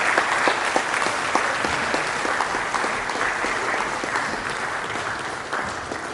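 A conference audience applauds after a speech at a stakeholders' roundtable, steady dense clapping from many hands that fills the room and holds at an even level throughout.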